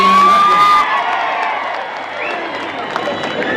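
A crowd of fans cheers and whoops with shouts at a political event in Vijayapura, loud at first and then settling into a steady, busier crowd roar.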